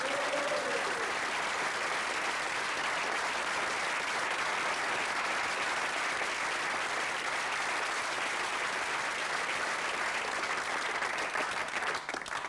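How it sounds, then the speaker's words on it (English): A studio audience gives Stan Bowles a round of applause on a football show, dense sustained clapping that stays loud and even from start to finish with no talk over it. "Ladies and gentlemen, a round of applause, please, because he's here, Mr. Stan Bowles."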